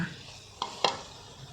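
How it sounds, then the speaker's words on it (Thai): Pork head meat is stir-fried in a pan, with a steady low sizzle and two quick scraping clinks of a utensil against the pan, close and alone. "เนื้อหัวหมูนี้นะคะ ก็จะค่อนข้างที่จะ เหนียวเหนียวแล้วก็ผัดให้หนานหน่อยนะคะ"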